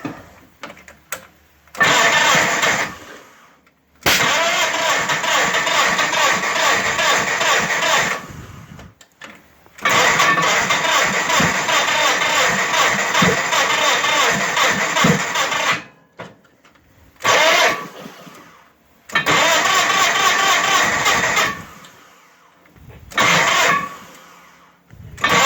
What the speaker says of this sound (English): see if the old John Deere 316 is going to start